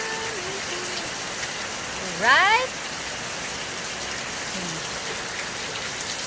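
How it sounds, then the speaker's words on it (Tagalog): Steady heavy rain hisses throughout in San Fernando, Philippines, with a person briefly speaking over it partway through. "ang lakas ng ulan ngayon"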